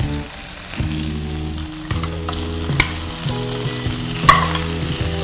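Chicken pieces frying in a pan with ginger garlic paste, loud sustained sizzling with stirring clatter and occasional sharp spatter bursts, no talking.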